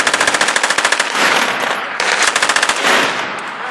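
Rapid bursts of automatic machine gun fire at an outdoor shooting range, loud and close, in two long strings of evenly spaced shots with echoing reverberation filling the gaps between bursts.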